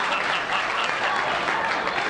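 Steady applause from an audience, dense and even clapping that holds a constant level throughout without breaks, with no talking over it.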